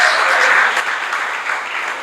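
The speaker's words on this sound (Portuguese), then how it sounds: "Você pode dar uma salva de palmas para Jesus?" Church congregation bursts into applause for Jesus during a Lord's Supper service, a loud, close wash of many hands clapping that eases slightly after the first second.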